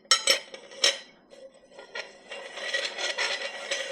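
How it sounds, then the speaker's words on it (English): Metal meat grinder parts, including the auger, knife and grinding plate, are fitted together with sharp clanks and clicks followed by scraping, rattling metal-on-metal handling, loud and close. "Auger goes in, then the knife, then the grinding plate."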